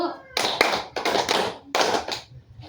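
Children in a group counselling session practise a clapping pattern: three sharp bursts of several hands clapping together, close and crisp, separated by short pauses.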